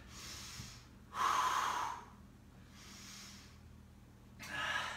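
A person breathes heavily during a floor exercise, with loud rhythmic inhales and exhales alternating in about four long breaths, close to the listener, with no talking.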